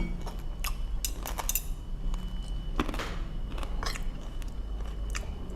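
Someone eats salt-fried pork belly with hot rice close up, with steady chewing and crunchy bites mixed with faint clinks of cutlery on a plate, no talking.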